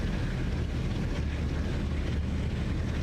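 A Class 45 Peak diesel locomotive engine in Train Sim World 5 at full throttle gives a dense, continuous low rumbling throb with broad noisy roar, steady and close.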